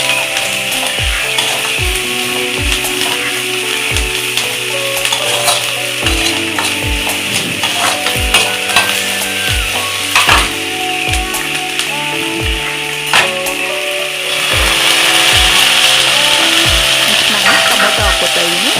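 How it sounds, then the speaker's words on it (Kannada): Sweet corn and mixed vegetables sizzle in a pan for red sauce pasta while a utensil scrapes and stirs in repeated sharp strokes over the constant loud frying hiss, without talk. "ಸ್ವೀಟ್ ಕಾರ್ನ್ ಹಾಕೋತಾ ಇದ್ದೀನಿ."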